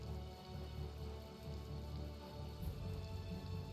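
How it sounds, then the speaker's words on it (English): Steady rain falls in the Tales of Vesperia video game, a soft, even patter continuing without a break under faint sustained background tones. "What, is it always gonna be raining over here?"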